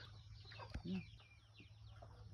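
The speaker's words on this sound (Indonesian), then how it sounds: "Ini ayam." A chicken clucks softly in a quiet outdoor setting, a short low cluck with faint background noise.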